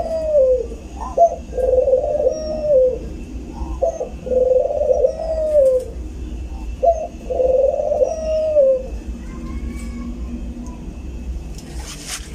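A pigeon coos just after being lifted out of a bath, giving three or four rolling, throaty coos in clear bursts with short pauses between them. The bird is close and loud against a quiet indoor background.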